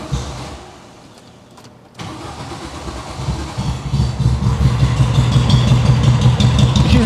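A 1970 VW with a 1915cc engine and dual 40 carburetors tries a hard start: a short whirring crank, a brief quiet gap, then the engine catches and builds into a loud, rough, rising run.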